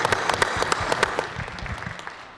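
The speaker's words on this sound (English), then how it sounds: "Would you give them a round of applause again?" A committee meeting audience applauds students with scattered hand claps that start crisp and loud, then thin out and fade over a couple of seconds.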